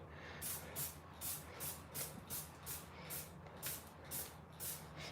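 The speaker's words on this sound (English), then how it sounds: "I need to spray this in other places here." Repeated short hissing bursts of a spray, about ten evenly spaced pulses, fairly close over a low background rumble.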